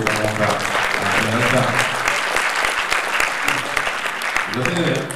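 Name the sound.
audience applause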